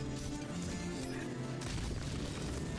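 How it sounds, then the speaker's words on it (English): The corpse explosion skill in an action role-playing video game bursts in a dense, loud crash of layered booms and crunching impacts that continues steadily throughout. "Corpse explosion."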